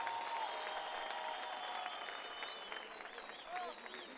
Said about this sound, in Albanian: Një duartrokitje nga të zotët e shtëpisë për gjithë miq që na kanë ardhur.